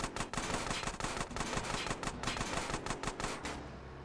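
Rapid gunfire rattles in GTA San Andreas, a dense, steady stream of shots lasting about three and a half seconds before cutting off abruptly.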